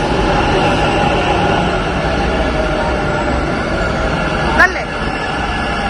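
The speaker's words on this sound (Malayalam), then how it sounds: "മെട്രോ വരുന്നുണ്ട്." A Bangalore metro train pulls into the station with a continuous heavy rumble and rolling wheel noise, a short metallic squeal near the end, and faint voices in the background.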